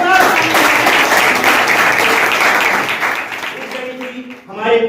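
Audience clapping at a Teacher's Day school celebration, a dense steady round of applause that thins toward the end, with a voice speaking over the fading claps.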